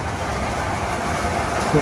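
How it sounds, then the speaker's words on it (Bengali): Continuous broadband rumble of a train rolling past on tracks at an amusement park, steady and loud throughout the short stretch. "এই যে দেখেন ট্রেন যাচ্ছে"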